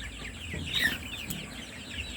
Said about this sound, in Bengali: কতগুলো মুরগি